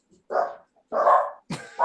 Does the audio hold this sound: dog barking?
yes